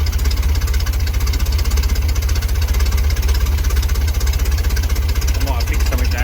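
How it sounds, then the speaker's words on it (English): A steadily idling engine in a backstreet custom build runs with a loud, even low throb throughout and no breaks. "Can't believe it's running and it's idling."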